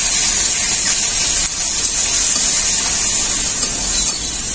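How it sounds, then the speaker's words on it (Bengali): A little water is poured into spice paste frying with turmeric, giving a loud, continuous, close hiss and spray of sizzling liquid that runs steadily from start to finish. "অল্প একটু জল দেবো মশলাটাকে কষানোর জন্য।"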